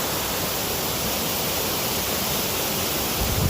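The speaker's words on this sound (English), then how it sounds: "And there's the waterfall" Waterfall on a winter walk near ice, a steady full rushing roar that fills the whole stretch evenly and loudly, with no voices over it.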